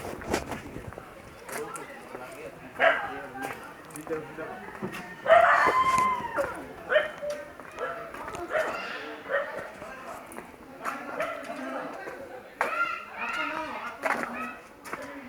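A dog barks several times at irregular intervals, mixed in with people talking nearby and some background bustle.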